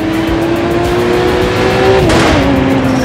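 Street race car engines in The Crew 2 video game roar loudly and steadily at high revs, with a sharp pitch shift as a gear changes and a brief tire squeal, no voices.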